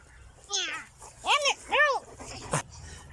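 A pet dog whimpers and whines in three rising and falling cries, close by, followed by a short sharp yelp, with a person talking softly nearby.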